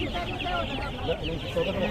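Chickens cluck and chatter at a busy Friday poultry market in Sherbin, Egypt, where ducks, pigeons and rabbits are also sold; overlapping clucks sound close over a constant crowd murmur, with people talking in the background.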